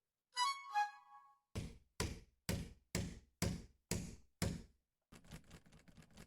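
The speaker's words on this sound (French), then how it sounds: "Nous avons tapé assez fort sur la porte et secoué énergiquement la poignée." Someone pounds hard on a door fitted with a Verisure home alarm system and rattles its handle. A brief rattle comes first, then seven sharp, evenly spaced heavy knocks, then a buzzy handle shake, loud and close with no voices.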